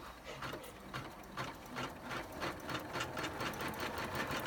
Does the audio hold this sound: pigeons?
no